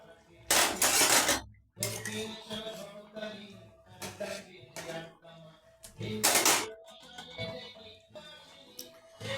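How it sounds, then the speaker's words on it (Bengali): A lid going onto a pot of simmering rohu fish curry, heard as a few clattering metal clanks and knocks between stretches of quieter kitchen handling. "এখন আমি চাপা ঢাকা দিয়ে দেবো"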